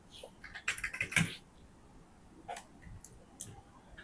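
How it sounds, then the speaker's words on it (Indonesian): Bursts of typing on a computer keyboard as prices are entered, quick clusters of light key clicks then a few scattered taps, close and fairly quiet. "Dan ini bisa langsung diketik aja harganya"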